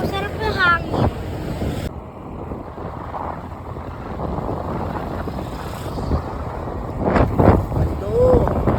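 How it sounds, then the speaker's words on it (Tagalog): Steady wind rushing past the microphone while riding on a boat over water, a continuous broadband roar with people talking over it. "Opo, sarap ng hangin."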